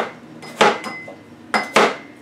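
Apples and celery are sliced for a Waldorf salad, with two crisp knife chops landing on a cutting board close by, sharp and clean with short quiet gaps between them.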